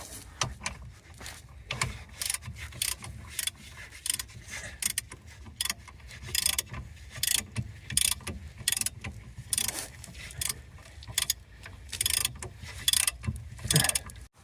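Ratchet wrench snugging bolts while removing a Lexus/Toyota handbrake: rapid clicking pawl bursts repeat throughout, close and crisp, with brief pauses between runs of ratcheting and some metallic handling.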